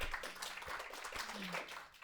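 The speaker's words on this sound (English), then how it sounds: "let's give another round of applause to our amazing partners" An audience claps in steady applause at a public talk in a venue, a dense continuous patter of many hands heard from within the crowd.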